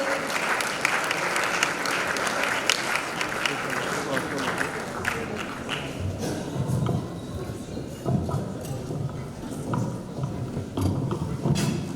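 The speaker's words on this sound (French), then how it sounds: "Est-ce qu'on peut acclamer pendant qu'il est en train d'avancer?" An audience applauds as the archbishop walks forward at his 60th birthday celebration, a dense sustained clapping that stays loud before thinning into scattered claps.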